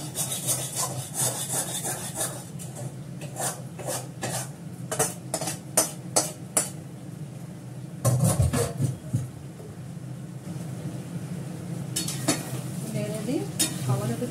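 Meat is stirred in a cooking pot with a series of rhythmic scraping and rubbing strokes, close and fairly loud, with a short burst of heavier clattering partway through.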